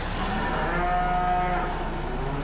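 Cattle mooing in the Farming Simulator 15 video game: one long, steady moo sounds over a constant farmyard background hum.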